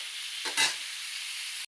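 Leafy greens frying in a pan give a steady, close sizzle with a brief louder crackle near the middle, then stop abruptly, with no voices.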